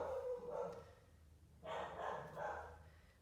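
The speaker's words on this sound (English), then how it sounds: "That's my dog barking." A corgi barks a handful of times, somewhat muffled and at a distance, in two short bursts with a brief pause between them.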